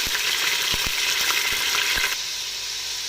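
Meat sizzling and frying in oil in a pot, a constant crackling hiss with a few scraping stirs against the pot, while cooking a chickpea stew.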